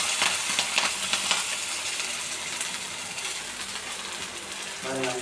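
Ginger, garlic and green chili fry in bubbling coconut oil with mustard seeds and urad dal for a Kerala kadala curry, giving a close, continuous sizzle with crackles and stirring scrapes.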